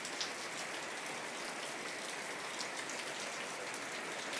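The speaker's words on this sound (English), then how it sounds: "It's pouring rain." Pouring rain falls in a dense, even hiss of countless drops striking surfaces, steady and fairly close with no pauses or voices.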